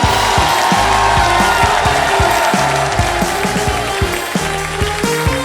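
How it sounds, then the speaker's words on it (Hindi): Loud, continuous applause and cheering from a TV game show studio audience after a contestant gives the right answer, a dense wash of clapping with some crowd voices, steady throughout. "जोरदार तालियां"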